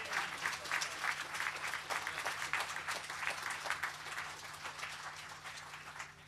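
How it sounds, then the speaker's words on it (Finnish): Audience members at a Helsinki church event clap for the intercessory prayer group, a sustained, fairly soft roll of applause that swells and thins a little toward the end. "Annetaanko tosi isot aplodit tälle esirukousryhmälle?"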